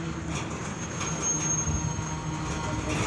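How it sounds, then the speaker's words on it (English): A Norfolk Southern intermodal freight train braking, grinding along the rails with a high metallic squeal of wheels, a continuous heavy rumble underneath. "It's the train that's trying to stop."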